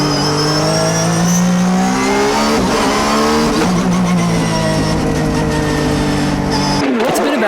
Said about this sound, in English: Before the time attack, Tsuchiya goes out on the circuit to feel the car and make final adjustments.